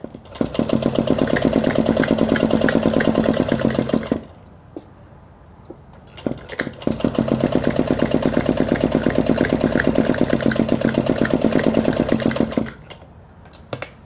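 An electric sewing machine stitching the side seams of a 36-inch ladies' suit along the marked fitting lines. It runs in two long, steady, rapid bursts of about four and six seconds, with a quiet pause and a few soft clicks between them.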